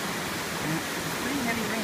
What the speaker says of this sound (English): It's pretty heavy rain.